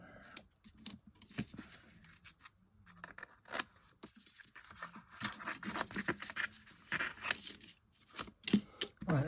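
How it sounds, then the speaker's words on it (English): Scissors snip out a paper shape for an advent calendar craft, giving a series of close, crisp cuts and papery scrapes in an irregular rhythm with brief pauses between. "Let's just cut this out."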